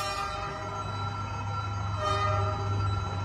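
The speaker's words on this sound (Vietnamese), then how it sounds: "mọi người sẽ nghe ồn tại vì cửa hàng tụi em nó gần cái đường ray xe lửa" A train rumbles along a railway right beside a shop, a close, loud steady roar with a sustained low horn-like drone throughout.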